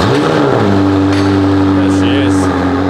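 A McLaren car engine starts up in a garage with car lifts, catching with a short rising rev and then settling into a loud, steady idle close by.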